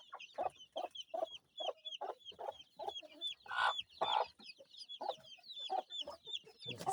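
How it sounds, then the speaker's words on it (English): A Kienyeji mother hen clucks in a steady, close series of soft calls while her chicks cheep high and fast around her on a poultry farm, with no talk. "Some healthy chicks."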